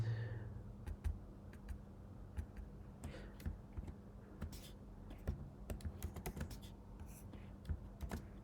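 Typing on a computer keyboard while setting up a Django web project, with irregular bursts of close, soft key clicks running steadily throughout under a faint background hum.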